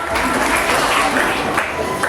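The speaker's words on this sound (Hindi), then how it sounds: "बच्चों, एक बार अनामिका मैम के लिए जोरदार तालियां बजा दो।" Students clap loudly for a teacher at a felicitation ceremony for high-performing Uttar Pradesh Board students, a brief burst of dense, even applause filling the room.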